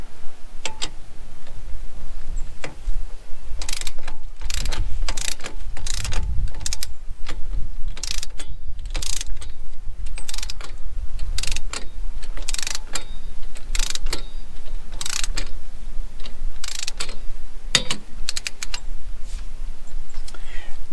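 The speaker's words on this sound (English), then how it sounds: "I'm going to use a torque wrench." Torque wrench clicking repeatedly as stabilizer bracket bolts on a 5th wheel landing gear are tightened, a steady run of sharp ratcheting ticks over a continuous low background rumble.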